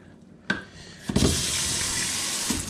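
Dishes being rinsed under a running kitchen sink tap: a couple of clunks, then water gushes on and streams steadily and fairly loud, with occasional knocks of dishware.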